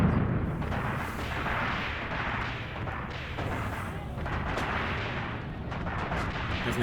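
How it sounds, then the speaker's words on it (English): Incoming artillery fire in a World War II North Africa battle game, a continuous dense barrage of rumbling blasts and booming impacts that swell and fade with no pause. "Definitely have some incoming fire there."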